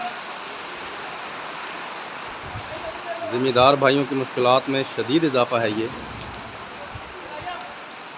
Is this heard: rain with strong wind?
yes